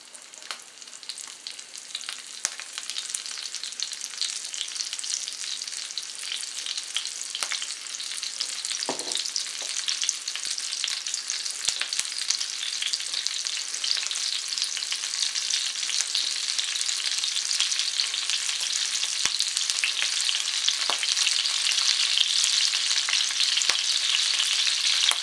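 Halved Brussels sprouts, placed face down, fry in hot bacon grease with a steady bright sizzle and crackle that continues throughout. Occasional soft pops and stirring scrapes break through the hiss.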